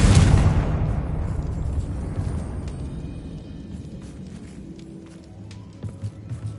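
A Confringo spell blast in the game Hogwarts Legacy opens with a loud, close explosive boom that rolls off into a long fading rumble, followed by faint light taps and footsteps.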